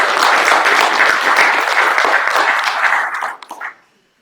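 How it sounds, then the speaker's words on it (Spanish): Close, loud congregation applause in a church, dense clapping that holds steady for about three seconds and then breaks into a few scattered final claps before silence. "Dar un fuerte aplauso"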